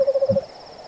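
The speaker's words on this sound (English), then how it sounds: "Minerva's owl and her wisdom." An owl hoots in a Roman-era radio drama: a quick run of four close, clear, evenly spaced hoots, then a short lower note, with a quiet background.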